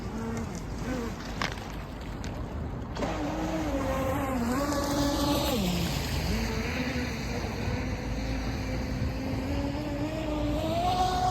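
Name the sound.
UDIO22 RC speed boat running on water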